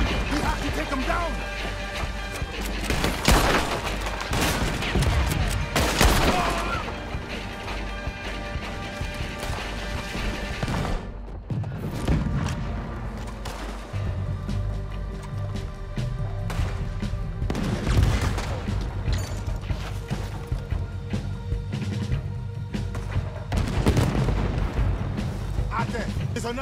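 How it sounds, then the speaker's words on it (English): Cannon blasts and repeated gunfire crash through a Red Dead Redemption 2 mission battle, loud and close, with heavy booms, rattling shots and clattering mechanisms while voices shout over the fighting. "Another cannon up ahead on our left."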